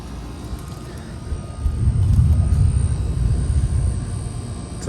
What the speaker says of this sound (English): LG scroll compressor.